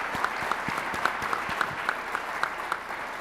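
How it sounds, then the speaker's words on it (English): A crowd applauds sponsors at a long snapper award event, with sustained clapping throughout and a few sharper, distinct claps standing out near the front at regular points. "Zebra Technologies, Bernie's, give them a round of applause once more"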